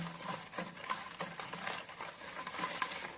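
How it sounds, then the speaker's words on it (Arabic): Chicken marinade with soy sauce being stirred makes faint, rhythmic wet squelching and sloshing, repeated strokes close by, with no one talking. "هقلب بقى كل المكونات دي كويس جدا"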